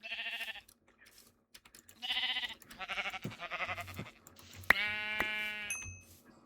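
Sheep bleat several times in Minecraft with the Crazycraft modpack, the wavering calls close and clear and mixed with other short game sound effects.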